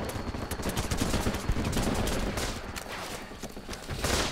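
Shotgun and rifle gunfire in the Running With Rifles video game, a dense, continuous fusillade of overlapping shots and bursts, loud and close throughout with no pause.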